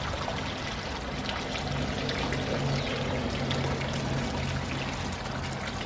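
Continuous splashing trickle of a garden water feature among palms, steady and close with no pauses, alone without any talking.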